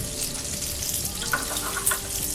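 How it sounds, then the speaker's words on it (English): Spinach wilting in a dry pan, giving off a steady watery hiss and sizzle with scattered small spits and pops, close and continuous. "we can start cooking the spinach"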